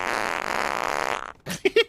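Farting picked up over an open hot mic during a live stream, a sustained low raspy burst lasting over a second, then short choppy bursts after a brief pause.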